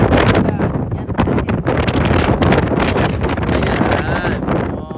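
Strong wind buffets the microphone in loud, continuous rumbling gusts, with a roaring, rushing texture throughout.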